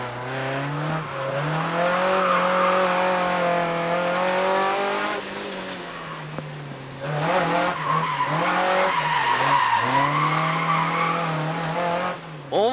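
A Toyota AE86 corners hard with sustained tire squeal over a strained, revving engine, the screech rising and falling through consecutive bends, fairly close, with no talk.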